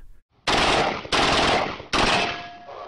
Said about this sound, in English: American contractors in Iraq were firing a Kalashnikov assault rifle and apparently hit one of the rounds.